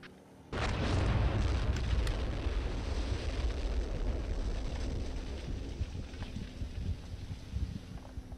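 A destroyed tank explodes with a sudden heavy blast, followed by a long, loud, rumbling roar that slowly fades and is heard alone.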